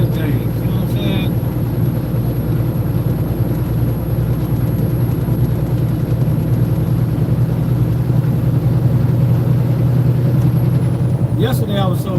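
A truck engine while driving, a loud steady low drone with constant road rumble and a high whine through the whole stretch, a voice speaking over it near the start and end.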